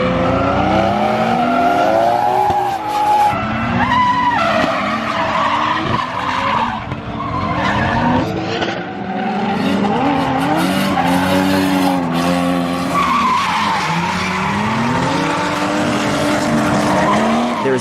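A Nissan R34 Skyline GTR drifts with loud, sustained tire squeal and skidding, the engine revving and wailing up and down throughout, close and continuous.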